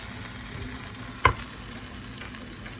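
Dal gets mixed in a pot over a quiet, steady background sizzle, with one sharp scrape or knock of the spoon partway through and otherwise gentle bubbling, no speech.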